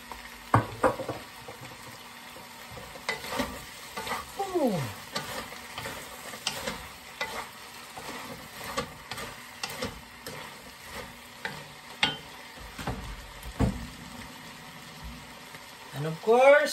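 Squid stir-frying in a pan with oyster sauce, a steady close sizzle broken by repeated clanks and scrapes of a spatula stirring, with occasional quiet talk.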